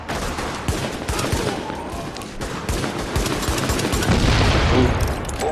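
Rapid, dense gunfire in The Division, with overlapping shots and bursts crackling steadily for the whole stretch at close, loud levels.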